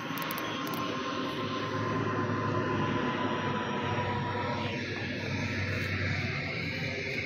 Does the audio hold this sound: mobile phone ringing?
no